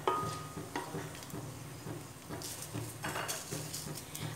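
Whole spices being stirred and sautéed in hot oil for chicken stew, a steady sizzle with rhythmic scraping and knocking of a spoon against the pan, close and moderately loud.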